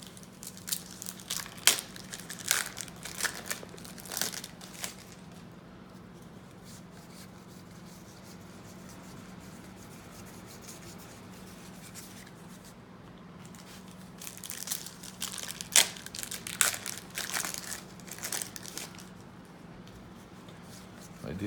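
Packs of Score hockey cards are torn open and handled, bringing quiet crinkling, tearing and rubbing in scattered bursts over a low steady hum, while someone talks throughout.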